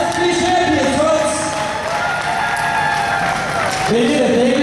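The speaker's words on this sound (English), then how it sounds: "A round of applause for our 3 champions," A crowd at a live indoor wrestling event applauds and cheers loudly and continuously, with an amplified announcer's voice running over the clapping.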